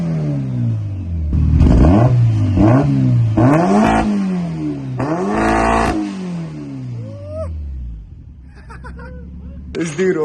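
A turbocharged Mariner Blue Mazda Miata with 101k miles is revved repeatedly, with several loud rising blips that fall away between pulls and end in a short final rev, as people chatter nearby.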